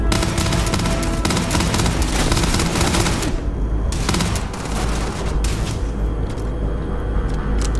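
Sustained loud gunfire in the space game Starfield, rapid overlapping shots forming a dense fusillade with brief gaps between bursts, heard alone without talk.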